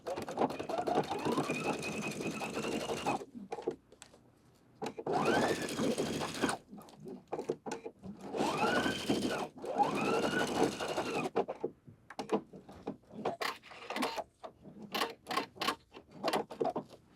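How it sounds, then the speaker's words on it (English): A sewing machine runs a zipper jacket seam at a half-inch allowance in several separate bursts of steady stitching, with short pauses and small handling clicks between runs. "Now we're going to sew up the other side."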